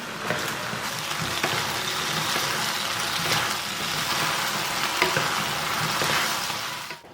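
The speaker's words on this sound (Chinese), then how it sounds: "翻炒4、5秒钟，然后把炸好的咕噜肉放进来，翻炒均匀就可以出锅啦" Sweet and sour pork with pineapple and vegetables stir-frying in a wok, a steady loud sizzle with occasional scraping clicks of the spatula throughout, no talk.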